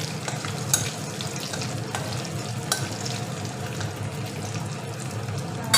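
Cumin seeds and a bay leaf crackling in hot oil as a tempering for bottle gourd, a dense steady sizzle with occasional sharp pops and light stirring, close up and alone.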